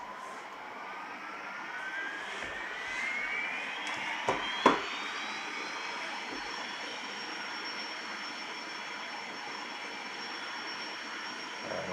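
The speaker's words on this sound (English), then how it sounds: "are in the 747 now and taking off at the Paris airport" Boeing 747 jet engines spooling up for takeoff at a Paris airport in a flight simulator game, a steady broadband roar with rising whine that climbs gradually, with a few soft clicks partway through.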